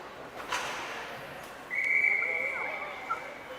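A referee's whistle sounds at a 14U youth hockey game: one sharp, sustained blast of about a second, fairly loud over faint arena murmur, followed by a short quieter chirp.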